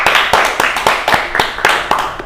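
An audience claps at a school talk show, with sharp, evenly paced hand claps, close and loud, and no voices over them.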